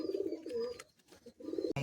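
Madrasi pigeons cooing, a low throaty burble that rolls on steadily through the clip. It pauses briefly partway and ends with a sharp click.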